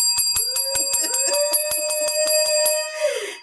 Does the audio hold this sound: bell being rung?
yes